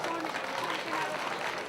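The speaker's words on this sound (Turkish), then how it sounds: "Biraz daha kocaman olabilir mi alkışımız?" An audience at a circumcision celebration breaks into steady, dense applause, a continuous wash of clapping filling the hall while a voice carries over it.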